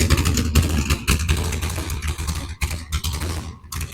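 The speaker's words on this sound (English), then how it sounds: "Don's actually starting an engine on a run stand" A modern Hemi engine fires up on a run stand in a garage, a loud, close, rough idle with pulsing blips of revving and sharp mechanical clatter, no voices over it.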